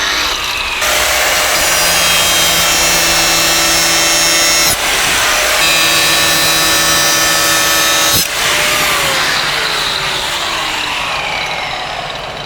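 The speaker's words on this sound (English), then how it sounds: "use the grinder very carefully and chamfer it down" A grinder chamfers the cut end of a drainage pipe on a house build, running loud and continuous with a steady whine that briefly drops out twice and then winds down in pitch near the end.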